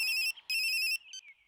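Electronic phone ringtone trilling in two loud bursts with a short gap, then a fainter trailing chirp, no voices.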